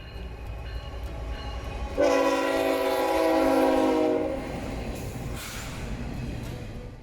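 A Canadian National Railway train rumbles past nearby, its horn blaring loudly for a couple of seconds over the steady roar of the wheels.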